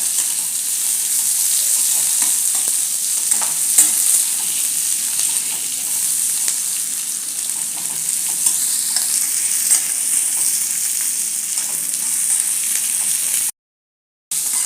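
Onion softening in a pan for chole bhature, giving a loud, continuous frying sizzle with light stirring scrapes, broken by a brief silence near the end.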